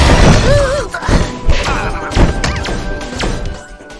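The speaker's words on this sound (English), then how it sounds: "They're destroying all my defenses." Enemies smash through defensive turrets and barricades in the survival game Sleep Tight, a run of loud, close thuds and crashes over a busy game soundtrack.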